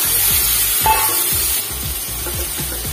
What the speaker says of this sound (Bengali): পেঁয়াজটা ভাজা হয়ে গেছে, তো টমেটো একটু দিয়ে দেবো